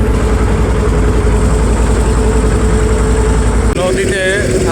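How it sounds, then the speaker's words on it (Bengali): A motorized trawler boat's engine drones steadily and loudly close by on the Sandhya river, a continuous low rumble with a constant hum that does not let up. "এমনিতেই ট্রলার নিয়ে বেরোইলাম"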